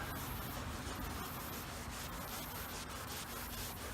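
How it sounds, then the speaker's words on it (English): Magic eraser with cleaning chemicals rubbed in circles on a 41-year-old engine cover, a steady, close, continuous scrubbing and rasping sound with no talk. "I'm just rubbing in a circular motion here."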